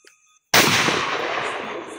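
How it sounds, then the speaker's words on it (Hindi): A hunting gun test-fired in remote open country before dawn ahead of a duck hunt: a single loud, sudden shot that rolls on as a long echoing boom for over a second before cutting off. "तो अभी मैं यहाँ पे अपनी गन का टेस्ट फायर करने लगा हूँ।"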